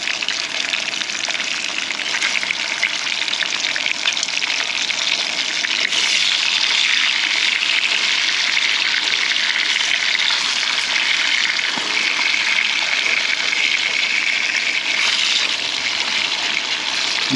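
Bacon pieces fry in their own grease in a pan, a loud, continuous dense sizzle and crackle that holds steady throughout with no talking.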